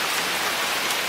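Steady rain falls and blows in around an outdoor backpacking camp kitchen, a dense, even hiss with no voices.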